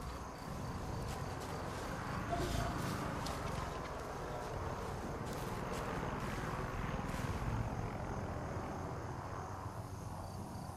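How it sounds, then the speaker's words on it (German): A helicopter in the video game Far Cry 5, Hours of Darkness jungle DLC, passing overhead as a steady distant rotor drone with a rhythmic thudding pulse, heard over a constant bed of chirping insects. "das war da oben der Helikopter"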